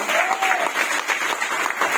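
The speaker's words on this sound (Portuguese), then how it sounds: "Pode aplaudir." Church congregation applauding together, a steady dense wash of clapping with cheering voices mixed in, loud and close throughout.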